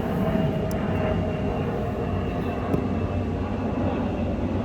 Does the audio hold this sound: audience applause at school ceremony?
no